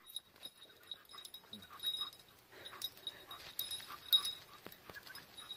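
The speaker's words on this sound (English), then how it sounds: "You hear the dogs?" Faint dog whimpers and soft yips come and go, mixed with panting and light jingling, with no talking.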